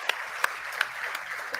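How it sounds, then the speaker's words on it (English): Applause at a developer conference: a soft, diffuse wash of clapping from the audience, with a few sharper individual claps standing out at a loose, roughly regular spacing. "So let's give them one big round of applause also."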